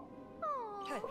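A cat in the LEGO Harry Potter video game gives one clear, rising then falling meow, about half a second long and fairly close, after a brief quiet lead-in.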